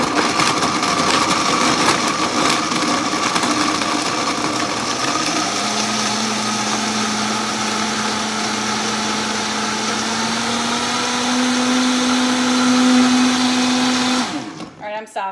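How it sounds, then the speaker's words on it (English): A loud kitchen blender whirs through a smoothie, running steadily for about fourteen seconds with a rising motor pitch partway through before it cuts off abruptly. "And I'm gonna blend it. You're gonna hear how loud it is."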